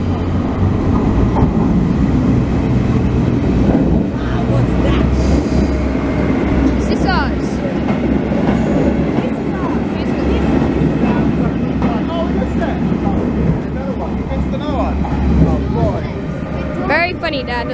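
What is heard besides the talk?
maintenance train passing a railway platform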